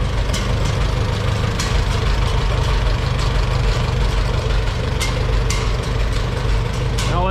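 An antique International W450 gas tractor engine runs at a steady idle, a loud, close, low rumbling drone with scattered metallic clicks and knocks throughout.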